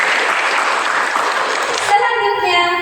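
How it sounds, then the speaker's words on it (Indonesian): A small group claps during a simulation exercise, brief steady applause lasting about two seconds before a voice starts speaking. "Tepuk tangan."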